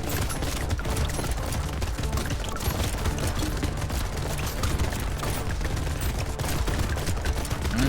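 Rapid bursts of gunfire and bullet impacts fill the arena in the video game Brotato, a dense, continuous clatter of overlapping shots with booming low end, loud and unbroken throughout with no talking.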